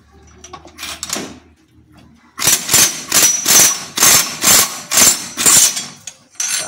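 A tool on a shock absorber spring assembly hammers in a loud, rhythmic series of about nine impact bursts, each roughly half a second apart, after some quieter handling noises at the start.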